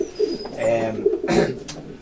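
A Dragon pigeon from kittle lines coos close by in a short, repeated burst, with faint bird chirps and light background noise.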